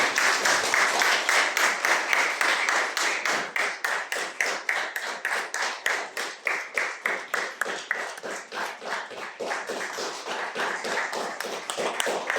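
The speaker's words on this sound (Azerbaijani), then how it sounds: "Şəhid analarını ayaq üstə alqışlayaq." A standing audience at a book event in Yevlakh's Heydar Aliyev Center honours martyrs' mothers with loud, rhythmic clapping in unison that holds a steady beat of roughly two to three claps per second.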